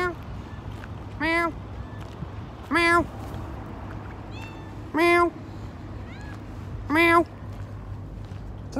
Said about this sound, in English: Is that the cat that just tried to talk to me?